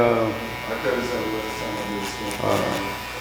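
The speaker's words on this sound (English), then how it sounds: "cordless key outliner, I'm working out the bottom line." A cordless hair trimmer outliner buzzes steadily while a barber shapes the bottom line of a men's haircut. The hum is close and continuous and rises briefly as the blade works along the neckline.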